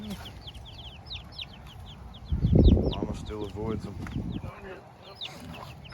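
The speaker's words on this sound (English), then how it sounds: "The rooster came over to say hi to the babies." Chickens cluck near a rooster and young chicks on an off-grid farm. Rapid, repeated clucks and chirps run throughout at moderate volume, while a person talks over them partway through.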